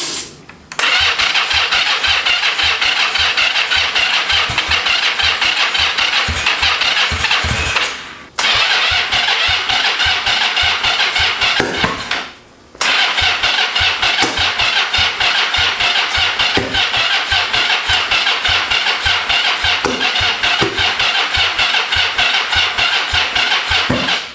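A Yamaha XZ550 motorcycle with a fuel leak and a weak battery cranks and catches, its engine running in a loud, close, rapid chugging idle that twice cuts out briefly and restarts.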